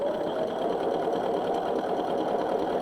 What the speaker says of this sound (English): So I'm going to sew down this side.